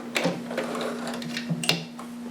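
A sewing machine stitches and backstitches a seam on a McCall's 7402 harem jumpsuit, giving a steady motor hum with light mechanical ticks and clacks, close and fairly quiet.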